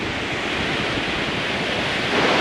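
Glacier meltwater rushes beneath a bridge near McCarthy, Alaska, a steady, dense, close roar of churning water that swells slightly toward the end, with no voices.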